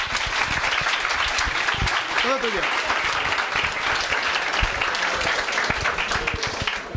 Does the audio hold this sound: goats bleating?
no